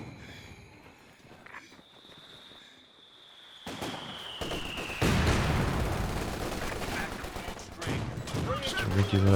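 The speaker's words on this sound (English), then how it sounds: "Just a regular barrage" Artillery barrage in Company of Heroes 2, with a whistling incoming shell followed by heavy rumbling blasts and crackling explosions that build louder and denser, alongside scattered battlefield noise.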